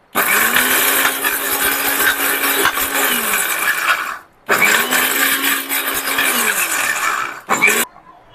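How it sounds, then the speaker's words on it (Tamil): A mixer grinder grinds roasted spices into sambar powder in two loud whirring runs of a few seconds each, pausing briefly between them, then gives a short final burst. "இப்போ ஆறி போச்சு, நம்ம வந்து கொட்டி அரைச்சிக்கலாம்."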